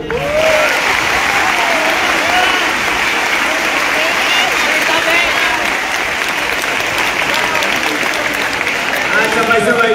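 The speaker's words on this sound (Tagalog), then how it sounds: "pwede bang itodo ninyo ang palakpak ninyo sa inyong mga guro?" A large school crowd claps loudly and continuously for the teachers, with cheering voices mixed into the dense applause.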